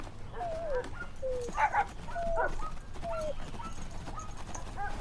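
A dog yelps and whimpers in short high cries spread across several seconds, moderately close, with low background rumble beneath.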